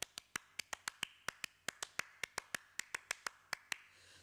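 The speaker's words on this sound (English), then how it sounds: "the hand claps that you hear throughout the rhythm" Sharp, dry hand claps repeat steadily through a reggae rhythm recording, about twenty evenly spaced hits over a few seconds. They sound close and crisp, with no voices.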